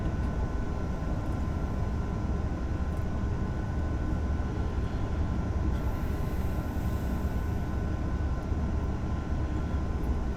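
A DB BR 406 ICE 3M train runs at speed on the Köln–Aachen line in a train simulator game, a steady, loud low rumble with a constant tonal hum and no talking.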